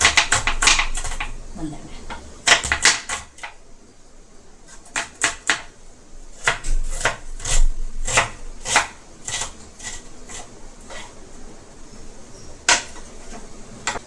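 Rapid knife chops through an onion on a cutting board, coming in quick bursts with short pauses between, crisp and close.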